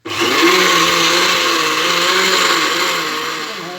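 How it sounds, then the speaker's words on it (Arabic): Basbousa batter being whipped in a bowl by an electric mixer, a loud, steady motor whine that holds close and unbroken for a few seconds before easing off slightly. "دابا غادي نخلط هذا الخليط"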